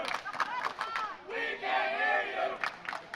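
Crowd at a staff versus scoutmasters volleyball game cheering and shouting loudly during a serve, a swelling roar in the middle with voices around it.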